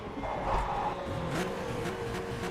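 Race car engine in the rFactor 2 sim, held at fairly high revs and wavering up and down, mid-loud and continuous, with a few brief sharp transients over it and no talk.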